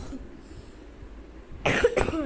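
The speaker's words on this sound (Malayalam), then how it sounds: "ചുമ കേട്ടോ." A single person coughs a couple of times close to the microphone, the short harsh bursts breaking a quiet indoor background.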